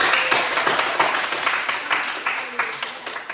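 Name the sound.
audience applauding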